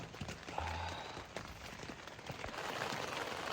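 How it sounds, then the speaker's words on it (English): Heavy rain pours down in sheets on a hiking trail along the Pacific Crest Trail near Snoqualmie Pass, a dense, steady patter and hiss of drops close by, with occasional louder splashes. "It's coming down like waves, almost like sheets of rain."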